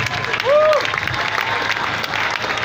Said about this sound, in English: Please give a round of applause to our Vice Chancellor.